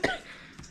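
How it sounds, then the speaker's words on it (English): One brief throaty cough from a person fighting a lingering cough, close to the microphone and fairly soft, a quick rasping burst fading into room quiet. "the cough is just killing me"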